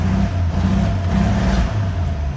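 The inline-six engine of a 1950 GMC 100 pickup with a glass pack muffler idles with a steady, throaty, low rumbling growl, loud and close, holding an even rhythm throughout.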